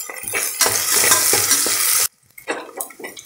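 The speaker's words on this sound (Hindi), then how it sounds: "फ्राई कर लेंगे।" Chopped onion, green chillies, cumin and bay leaves sizzle and crackle in hot mustard oil while a spoon stirs and scrapes the pan, loud and close for two seconds before a brief pause and quieter stirring.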